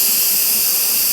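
A Nesco smart pressure canner vents steam while canning beans, a loud, steady, high-pitched hiss that pours out continuously without a break.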